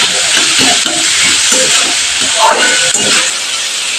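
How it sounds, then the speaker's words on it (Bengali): Carrot and capsicum lightly frying in a pan, a continuous close hiss and sizzle with soft stirring movements throughout, ending a little quieter. "সবগুলো আমি হালকা করে ভেজে নিচ্ছি,"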